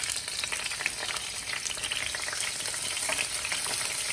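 Vegetables, some frozen and some fresh green pepper, frying in a pan for dragon chicken, producing a loud, dense, continuous sizzle with faint stirring crackle and no talking.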